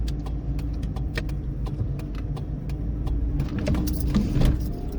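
A car idles and moves slowly while turning into a service station off a quiet side street, a low engine hum with rhythmic indicator ticks and a brief grind near the end.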